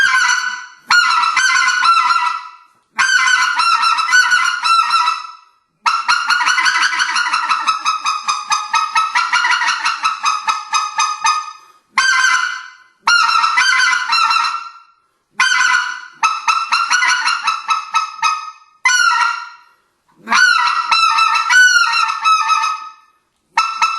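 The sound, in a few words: specklebelly goose call blown by hunter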